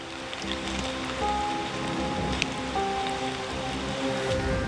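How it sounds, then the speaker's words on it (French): Steady rain patters down continuously in a forest, a dense wash of drops with faint distant tones beneath, no voices. "mais la pluie décide de s'en mêler"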